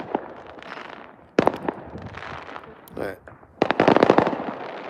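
Fireworks bursting on New Year's Eve, seen from a balcony: sharp loud cracks and crackling volleys come in irregular bursts, some heavy clusters near the end, while someone speaks briefly over the noise.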